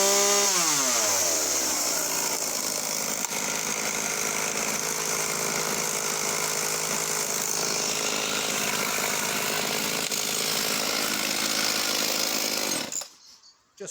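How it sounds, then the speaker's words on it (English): A Ryobi Power XT home garden chainsaw runs after a restart, giving a loud, steady, close drone that holds for about thirteen seconds before cutting off abruptly. "Just flawless running, just beautiful home garden saw."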